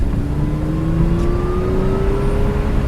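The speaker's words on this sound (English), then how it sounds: "There's that supercharger whine." An Audi S4 engine revs steadily and loud, with a rising supercharger whine over a continuous low engine drone, heard from inside the car while driving slowly at high RPM.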